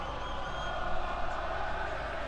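A boxing arena crowd at the Ruiz vs Joshua fight, with a continuous loud, diffuse roar of many voices and faint commentary underneath.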